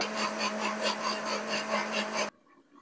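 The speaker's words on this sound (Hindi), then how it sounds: "और अब इसको हम पीस लेते हैं।" Electric grinder churning fried onions with about a glass of water, a loud steady whirring motor with a pulsing rhythm that cuts off abruptly near the end.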